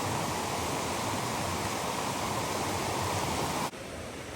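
A waterfall on the Whitewater River in North Carolina roars as a steady, loud broadband rush of falling water, continuous throughout and dropping slightly in level just before the end.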